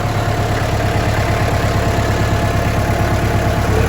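A 2009 Kubota L4508 tractor's diesel engine runs close by, a loud, steady, unbroken mechanical drone with no pauses or quiet gaps.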